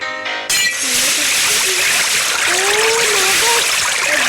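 Water splashes and streams in an ultra realistic Minecraft game, a continuous loud rushing wash that starts abruptly after a brief tone, with faint wavering tones running through it.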